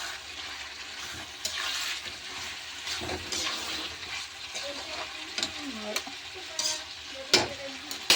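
Meat frying in a pan with a full packet of mutton masala gives a steady close sizzle with repeated scraping and stirring clatter, occasional sharper knocks of the spoon against the pan, and no talking.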